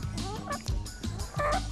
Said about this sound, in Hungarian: Ezek nagyon nyugodt tyúkok